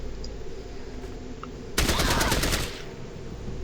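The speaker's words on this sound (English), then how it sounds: "And burst fire." A loud burst of rapid automatic gunfire erupts in the turn-based game Fallout Tactics, close and dense for about a second before trailing off into the quieter game ambience.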